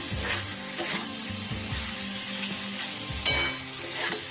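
Chickpeas and banana flower stirred and fried in a pan, a loud continuous sizzle broken by rhythmic scraping and clattering of a spatula, heard close with no voices.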